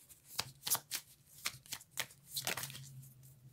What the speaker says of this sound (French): On prend une dernière carte.